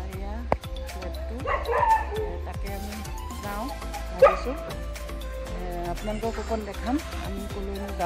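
A dog barking and yipping in short bursts, fairly close, with people talking over and around it the whole time.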